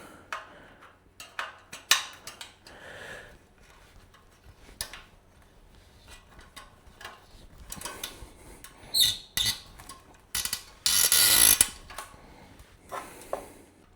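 Spokes being tightened on a custom fat bike wheel, a sparse series of small close clicks and ticks of metal on metal, with a louder rasping burst near the end and no talking.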